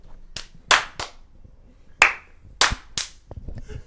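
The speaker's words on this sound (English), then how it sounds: "I need to clap so that I can actually make this" A single person claps sharply by hand several times at irregular intervals, crisp close-up slaps with quiet room tone between them, made to sync a podcast audio recording.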